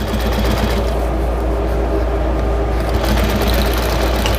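A sewing machine stitches along the fabric of a chicken-shaped potholder. Its motor makes a steady, close, continuous whir with a fast rhythmic hum that stays level and runs alone.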